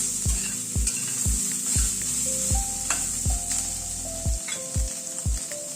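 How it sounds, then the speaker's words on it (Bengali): Soaked soybean chunks frying in hot oil, with a bright steady sizzle and regular spatula strikes against the pan roughly every half second, close and fairly loud with no voices. "সয়াবিনটাকে একটু ভেজে নিচ্ছি।"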